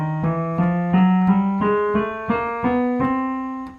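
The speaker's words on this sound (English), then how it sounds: "it's just the 12 most basic notes in music that sound like this on the piano." Piano playing a chromatic scale, ten or so clear notes struck one after another at an even pace and stepping upward, each ringing into the next, with no talking.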